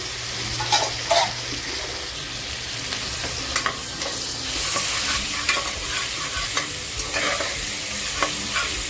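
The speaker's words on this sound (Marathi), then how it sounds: "मटणची चरबी जी काढून घेते ना बाजूला ठेवली होती ना ती अगोदर तेलामध्ये टाकून घेते" Mutton fat frying in hot oil for a Kolhapuri mutton dish, a loud close sizzle with bursts of spattering and occasional stirring scrapes, no speech.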